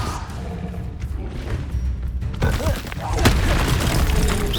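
Confringo, a fiery explosion spell cast in Hogwarts Legacy, lands as a sudden loud burst midway through, crackling and rumbling over ongoing battle noise and low background music.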